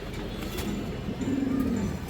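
A silver hen pigeon, a tota type, gives soft low cooing that swells toward the end of the short stretch, close by against a steady murmur of background noise.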